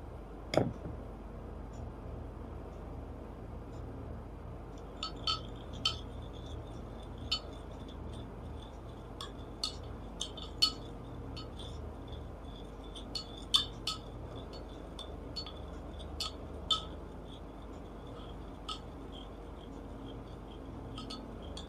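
A spoon stirs a solution in a glass during a school science demonstration, giving faint, scattered clinks and ticks against the glass over a low steady background hum.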